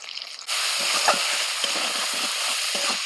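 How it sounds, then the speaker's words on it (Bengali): Spice paste of ginger paste, turmeric, cumin powder, salt and Kashmiri chili powder sizzles loudly in a pan with a little water, a steady close hiss broken by soft scraping stirs. "একটু জল দিয়ে মশলাটা কষিয়ে নেব।"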